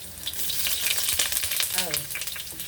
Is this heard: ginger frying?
yes